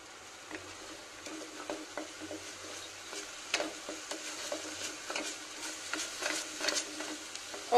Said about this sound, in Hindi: अच्छे से भून लीजिए प्याज को